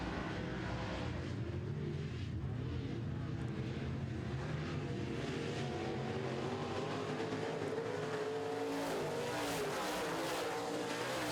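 Modified race cars run on a dirt oval track, a steady wash of engine roar from several cars at a distance, continuous and fairly even in level.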